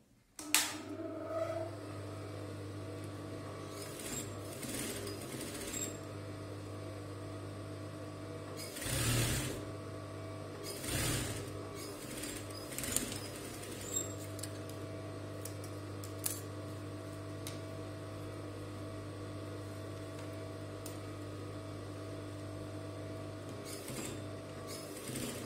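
A sewing machine stitches the shoulder seams of a djellaba, a steady low motor hum with a fast mechanical needle rhythm running nearly the whole time, broken by brief pauses and clicks.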